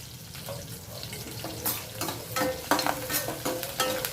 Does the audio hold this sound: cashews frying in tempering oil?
yes